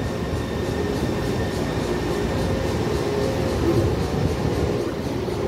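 A Taipei Metro C301 high-capacity steel-wheel train on the Tamsui-Xinyi line at Hongshulin station gives a steady, loud rumble that holds for the whole stretch and swells slightly near the end, with no voices.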